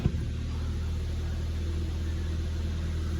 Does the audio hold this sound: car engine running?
yes